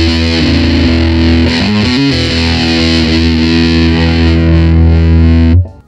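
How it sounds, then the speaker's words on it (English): A Donner Stylish Fuzz pedal drives an electric guitar into thick, buzzing fuzz on loud sustained chords with a few quick chord changes, held alone and close before cutting off sharply. "Next up in the signal chain, I have this Donner, what's it called? A stylish fuzz."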